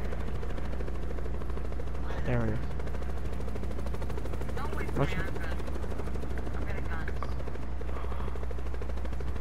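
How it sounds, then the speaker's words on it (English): A helicopter in Call of Duty: Black Ops 4 gives a constant low rotor drone throughout, under bursts of gunfire and brief shouted talk from players. "There's another chopper!"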